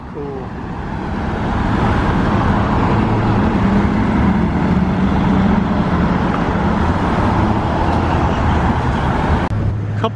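A Bugatti Chiron supercar pulls away with a sustained, steady engine rumble that holds loud and close across the whole stretch, mixed with surrounding road noise.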